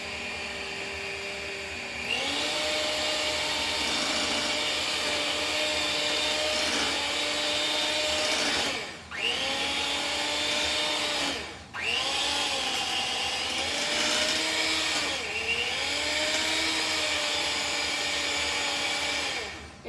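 Electric stand mixer running on low for cake batter, a steady whirring motor drone whose power briefly cuts out and dips twice before resuming, fairly close with no talking.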